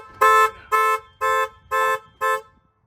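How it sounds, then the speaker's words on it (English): A Lexus LS430 car alarm sounds five loud, evenly spaced tonal blasts at close range. Each blast lasts about a quarter second, and the alarm then falls silent. "do you reckon the alarm will go off if I start it?"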